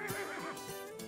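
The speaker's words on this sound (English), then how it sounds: "We found all the horses before the bandits did." A cartoon horse whinnies in a Dora and Friends video game about finding lost horses, a short, clear neigh with rising and falling pitch over light game background sound.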